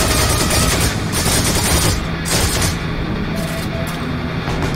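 Gunfire in the World War II shooter Heroes & Generals: dense, loud, continuous bursts of automatic fire fill the scene, with brief lulls between volleys and no talk over them.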